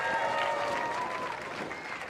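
A crowd at a dance competition final applauds a dance group with sustained clapping and some cheering and whooping, holding fairly steady before easing slightly.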